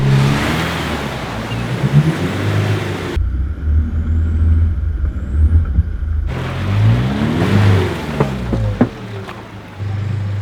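An off-road vehicle's engine labours and revs as it sits stuck in a small ditch on a Blue Mountains track, loud and close, with a steady low drone that rises and falls through repeated bursts of throttle.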